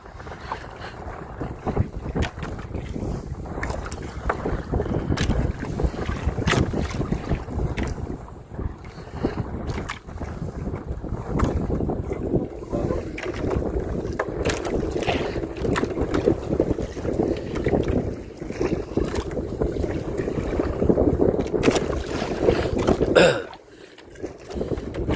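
Strong wind buffets a small boat out at sea on a fishing trip, a loud continuous roaring rush with gusty swells and microphone-battering bursts, broken by a brief lull near the end.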